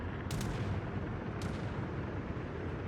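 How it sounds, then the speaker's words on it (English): Battleship main guns firing high-explosive shells in the naval game World of Warships, heard as two sharp booming salvos over a constant loud rumble of engine and sea noise. "our battleships firing HE though"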